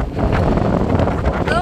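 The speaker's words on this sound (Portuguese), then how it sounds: "Que vento, gente, que vento." Strong gusts of wind buffet the microphone outdoors in France, making a loud continuous rumbling roar from start to finish.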